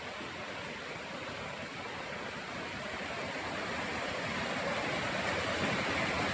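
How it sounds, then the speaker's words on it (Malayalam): Aruvikuzhy waterfall in Kottayam roars as a steady, dense broadband wash of falling water, continuous and unbroken throughout, swelling slightly louder toward the end with no voices. "അരുവിക്കുഴി വെള്ളച്ചാട്ടം"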